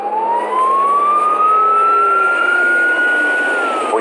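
Wailing fire engine siren rising in a long sweep, loud and close as the engine arrives at a house fire, with a steady truck rumble beneath and no voices.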